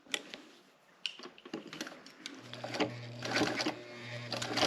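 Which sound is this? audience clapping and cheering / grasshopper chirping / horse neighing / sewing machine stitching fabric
sewing machine stitching fabric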